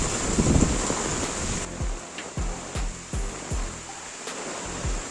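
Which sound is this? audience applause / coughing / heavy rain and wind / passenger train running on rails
heavy rain and wind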